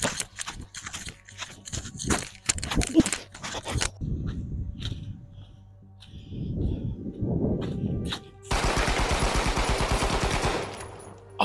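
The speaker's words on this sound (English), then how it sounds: "That motherfucker's using a machine gun." Rapid machine gun fire in the stealth video game Manhunt, bursts of sharp repeated shots near and loud, mixed with other game sounds and a sustained dense burst of firing toward the end.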